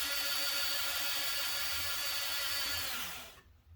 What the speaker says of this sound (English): Just grind a little edge off from it so the wires got someplace to go.